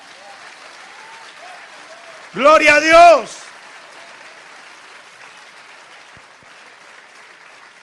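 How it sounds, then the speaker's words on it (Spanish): Congregation applause in a church sermon, steady clapping throughout with a loud shouted phrase from a voice midway over it. "dale un aplauso a Cristo"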